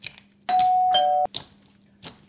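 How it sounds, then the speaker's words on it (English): A doorbell rings in the Roblox video game, a bright electronic tone held for under a second, followed by a few short soft clicks and chimes, fairly quiet with no talk over it. "ring the bell."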